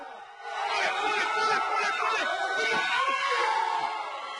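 A crowd shouts and cheers as a strongman slowly lifts a huge 501 kg barbell in a world-record deadlift, a swelling, sustained roar of many voices at moderate distance.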